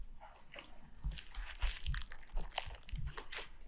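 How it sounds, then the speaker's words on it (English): Loud, close crunching and chewing of spicy food, with repeated wet bites and crunches throughout and no talk. "So much chewing."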